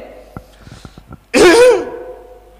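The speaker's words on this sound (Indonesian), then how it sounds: "kemudian termasuk di dalamnya adalah dehem" A few faint taps and clicks, then one loud, raspy throat clearing close by, lasting about half a second before fading.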